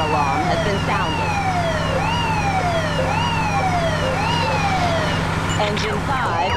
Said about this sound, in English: siren sounded.